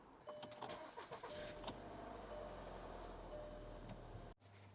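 A 2006-2008 Volkswagen Passat 2.0T FSI cranks and fires, then settles into a steady, close idle hum after a brief burst of starter noise, cutting off abruptly near the end.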